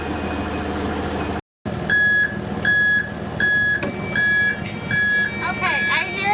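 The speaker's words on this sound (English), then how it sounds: "I hear the reverse backup sound, the door alarm" A truck's reverse backup alarm beeping repeatedly in a steady rhythm alongside a door alarm during a pre-trip inspection, loud and close over an idling engine.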